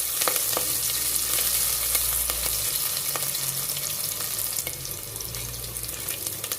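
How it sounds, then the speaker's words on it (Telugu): Green chillies and curry leaves fry in oil in a pan, a loud continuous sizzle with crackles and occasional stirring clicks, close up and steady under a low rumble, no one talking. "కొద్దిగా కరివేపాకు కూడా ఈ టైంలో వేసేసుకొని వీటిని లైట్ బ్రౌన్ కలర్ వచ్చేంత వరకు వేయించుకున్నాము"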